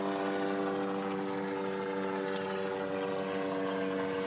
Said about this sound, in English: It's that drone, I guess, in the air again.